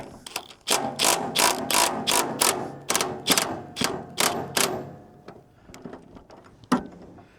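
A wrench loosens bolts on a manual band saw: a close, loud series of about a dozen quick ratcheting clicks in a steady rhythm, then quieter fiddling and a final clunk, with no speech.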